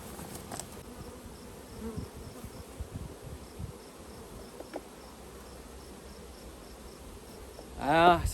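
Honey bees droning softly around an open hive in early June, a low, continuous buzz with a few brief louder passes and a closer burst at the very end.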